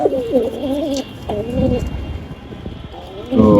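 Pigeons coo in a loft where paired birds are nesting with chicks, the rolling, throaty calls repeating close by in several bursts over a low background murmur.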